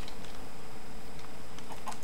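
Faint chicken clucks in a video game, a few soft calls over a steady low background hum.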